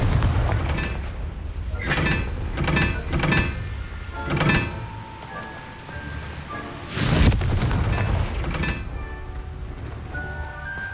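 Confringo fire-spell blasts in Hogwarts Legacy gameplay: a series of loud booming thumps, several in quick succession early on, then a bigger burst, over a busy game soundscape with tonal music and effects.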